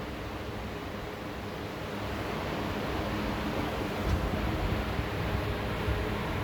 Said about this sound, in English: See, water is entering from here. You can see the air bubbles going inside with the water.